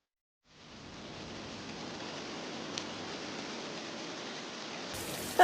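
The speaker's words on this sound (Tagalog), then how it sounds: "Malakas ang ulan." Steady heavy rain pours in a soft continuous hiss at a bus terminal during stormy weather, an even wash with no voices that rises briefly at the end.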